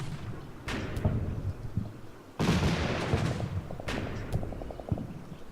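.50 caliber machine gun fire in the game Combat Mission Final Blitzkrieg, with heavy thumping shots, one loud blast, and a rapid rhythmic burst of fire over battlefield noise.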